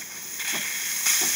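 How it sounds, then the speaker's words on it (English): A Delonghi Magnifica espresso machine's steam wand hisses in a steady, broadband rush of escaping steam, rising slightly partway through and close by, with no talk over it. "let me do steam now"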